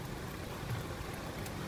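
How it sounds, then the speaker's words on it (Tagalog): Strong typhoon wind blows in a steady, loud roar of rushing air, continuous and close with no break, carrying no voices. "Ang lakas ng hangin talaga"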